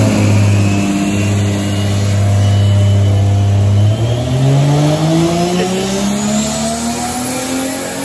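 A 700 hp Lexus SC300 with a 1.5JZ engine roars loudly on a dyno, first holding a steady high-rev drone, then sweeping upward through the revs in a rising, strained wail.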